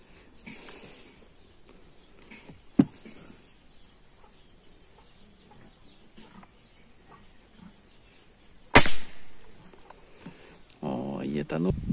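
Air rifle shots ring out while a Rossi scope is being zeroed outdoors, two sharp isolated cracks several seconds apart, the second much louder and closer, with someone talking quietly and birds audible in the background.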